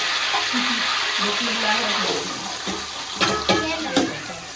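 Spices sizzle as they fry in a hot pan while iftar food is cooked, a steady broadband hiss with a few louder spits and clatters toward the end, with a voice talking over it.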